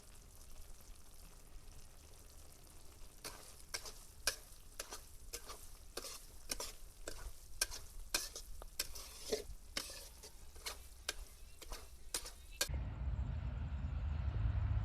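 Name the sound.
semolina being stirred and roasted in ghee in a pan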